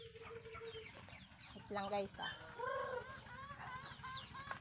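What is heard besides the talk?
chickens clucking while being fed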